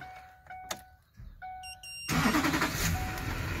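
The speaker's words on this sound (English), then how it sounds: "start the truck over again" A Duramax LLY diesel truck engine cranks and catches, settling into a loud rough idle, after a quiet stretch with a few electronic chimes and tones.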